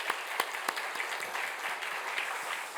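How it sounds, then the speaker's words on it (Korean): An encouraging round of applause for teachers from a church congregation during a Korean Saturday dawn worship service. It is brisk, even clapping with a few sharper claps near the front, lasting a few seconds. "우리 격려 박수 한번 해주시겠습니다."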